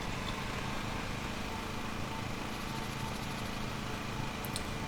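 A lawn mower engine drones steadily and evenly at moderate volume in the Lawn Mowing Simulator video game, with no breaks.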